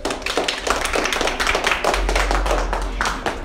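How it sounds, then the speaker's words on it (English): A group of people clap hands together in a dense, fast burst of close, bright claps, with a low rumble underneath. "round of applause for yourself"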